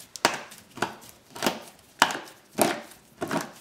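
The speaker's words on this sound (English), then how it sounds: "Use the knife to scrape the plastic away." A knife cuts and scrapes away plastic while building a vegetable winter-sowing dome, producing six sharp, close scraping strokes spaced about half a second apart, each a crisp attack with a short rasping tail, and nothing else between them.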